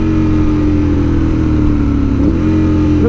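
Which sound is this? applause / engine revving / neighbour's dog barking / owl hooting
engine revving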